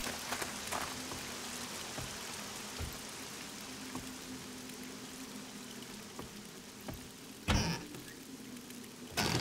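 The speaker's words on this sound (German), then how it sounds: "Schade, dass es gerade regnet." Steady rain pours down in the survival game 7 Days to Die, a constant hiss of falling water and pattering drops, with a few sharp louder bursts breaking through near the end.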